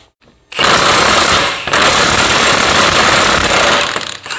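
Impact-style power tool hammering off an axle nut on a Subaru during wheel bearing work, a loud rapid rattling burst lasting about a second, then a longer sustained run after a brief pause.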